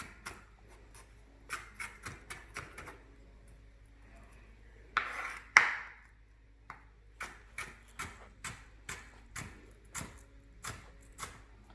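A knife chopping an onion on a cutting board for a Spam recipe: sharp, evenly spaced taps in a steady rhythm, a brief scraping burst midway, then more regular chops, close and clear with no talking.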